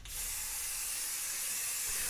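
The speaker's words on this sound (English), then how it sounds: "Spray paint doesn't really clog things up too bad" Spray paint hisses steadily from a can aimed at a homemade ITG2 dance pad. The spray is one continuous close burst with no talking.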